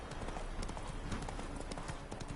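Horse hooves clip-clop steadily in The Witcher 3: Wild Hunt video game, a continuous rhythmic gait heard close throughout.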